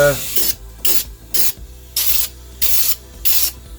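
Spray can bursts hiss in a steady rhythm of about seven short blasts, coating rust repair areas on a Ford Puma, loud and close with brief pauses between each spray.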